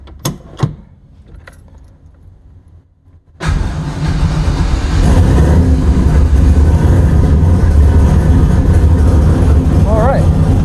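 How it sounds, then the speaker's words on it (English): Keys jangle and a door thuds in a quiet cabin, then a 1991 Foxbody Mustang with a turbocharged LS engine cranks and fires into a loud, steady rumbling idle up close. "So let's see if the car even starts."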